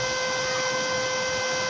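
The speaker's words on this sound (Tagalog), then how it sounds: "naririnig nyo na yung kanyang blower" The cooling blower of a Kawasaki welding machine runs with a loud, constant whirring hum and a steady tonal whine, unchanging throughout.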